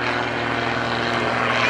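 A Pitts aerobatic biplane at an airshow roars with its engine at full throttle, a loud, steady propeller drone filling the sound close by without a break.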